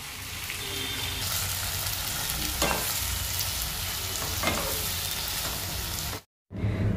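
Chopped onion fries in oil for a Bombay duck curry, an even close sizzle with occasional stirring scrapes, cutting to brief silence near the end.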